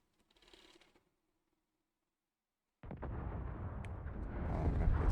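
Spaceship retro thrusters firing during a landing in the Starfield video game, a loud rough roaring burst that kicks in abruptly after a brief faint sound and near-silence, then builds steadily in power.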